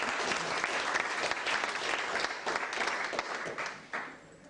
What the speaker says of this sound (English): what a big round of applause to the best man